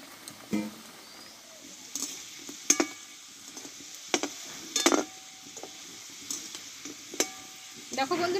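Raw-potato snacks frying in hot oil, a soft steady sizzle broken by repeated clinks and scrapes of a spatula stirring the pan, close by with no talk.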